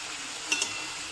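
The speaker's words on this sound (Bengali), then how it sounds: "পেঁপে আর আলুটা ভালো করে ভেজে নিচ্ছি এখন" Potato and papaya pieces frying in hot oil, a steady bright sizzle that holds evenly throughout, with two small spatter pops in the middle.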